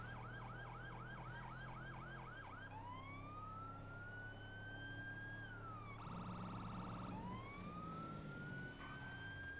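Police sirens in the video game GTA V with the LSPDFR mod: a rapid yelp gives way to a long rising and falling wail, then a fast electronic pulse and another wail, steady and loud under engine noise, with no talking.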